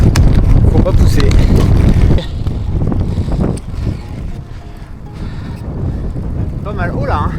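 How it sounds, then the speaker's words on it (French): Powerful gusts of wind blast straight into the microphone on a gravel ride, a loud low rumble that eases somewhat after the first couple of seconds but keeps buffeting throughout. "une rafale de vent dans la gueule, ça me freine"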